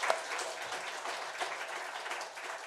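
A church congregation applauds during a Sunday service to celebrate three newly elected elders passing their exam, producing steady, dense clapping from many hands that holds at an even level throughout without any talk.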